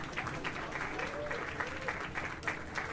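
Crowd applause from the Wild West Showdown game after a mud duel, a steady dense wash of clapping filling the whole stretch with a few louder surges.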